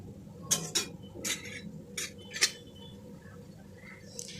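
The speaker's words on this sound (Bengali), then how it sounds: "ভেন্ডির মধ্যে সর্ষে বাটাটা ভালো করে মিশিয়ে নেব।" A spoon scrapes and clinks against a bowl while mustard paste is mixed into okra, giving a handful of sharp metallic taps in the first two and a half seconds, then a quieter stretch.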